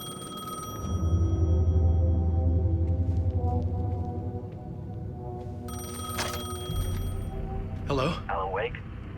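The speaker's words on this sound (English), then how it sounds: "payphone was ringing." A payphone rings in the Alan Wake 2 video game, a bright electronic bell sounding in repeated bursts over a low droning ambience, with further tones toward the end.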